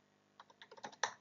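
A short run of about six close, crisp keystrokes on a computer keyboard as a search is typed into Google, quickening and ending on a firmer tap, with no talking.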